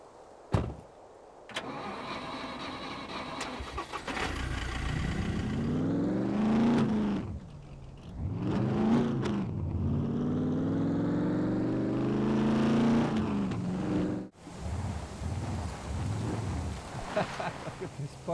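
A car engine starting in the survival video game SCUM, with cranking and a turnover into revving, rising and falling engine tones, a pause, then the engine firing again, loud and close.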